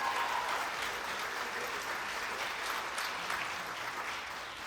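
A crowd applauds a storyteller at the Nebraska Storytelling Festival with a continuous, even wash of clapping that sounds somewhat distant and holds steady without speech.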